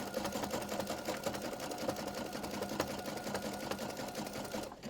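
A sewing machine stitches jelly roll fabric rug strips together in a fast, continuous mechanical chatter, close and steady for the whole stretch before cutting off right at the end.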